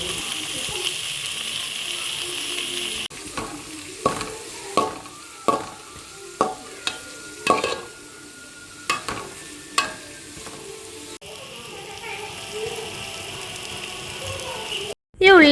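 Sliced onions, green chillies and ginger fry in the leftover oil from fried chicken while being stirred in a pan for a chicken curry. A soft sizzle runs underneath, broken by a series of sharp scraping stirs at irregular intervals.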